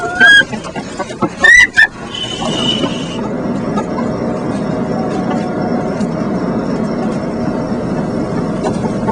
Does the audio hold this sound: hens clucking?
yes